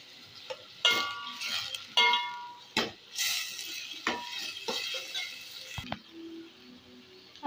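Tomato, onion and curry leaves frying in a pan for a Goan veg thali, with a soft steady sizzle broken by sharp clinks and scrapes of a spoon stirring against the metal pan.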